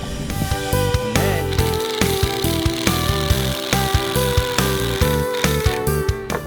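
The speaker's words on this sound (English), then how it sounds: "and you start drilling, nice and slow." A power drill drives a screw through a board laid on top, building up in short, rhythmic bursts of whirring, close and loud, with no talking.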